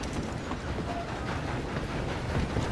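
Train rolling along rails in the Red Dead Redemption 2 game, a dense steady rumble with faint rhythmic clatter running throughout, loud and close with no speech.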